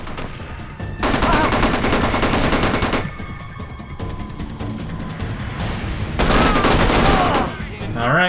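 Loud bursts of rapid automatic gunfire from the video game Tunnel Rats: 1968, with two long volleys separated by quieter stretches of scattered shots and game noise.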